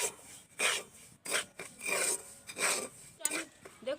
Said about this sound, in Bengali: সুজিটা এবার একটু আমি ভাজা ভাজা করে নেব।